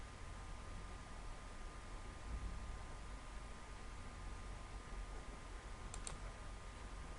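Soft, rapid keystrokes on a computer keyboard tap quietly and continuously against a faint background hiss, with no voices present.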